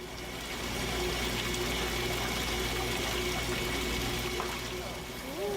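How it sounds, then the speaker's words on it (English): Water pumped into a home-brewing mash tun gives a steady, fairly quiet rushing, trickling flow that holds throughout, with a faint hum underneath. "So that's how you get water in there."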